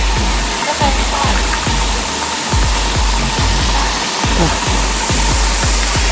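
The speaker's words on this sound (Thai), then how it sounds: "มันเป็นน้ำตก" Steady rushing water fills the scene, a dense continuous roar like a nearby waterfall, with a few soft knocks and rustles on top.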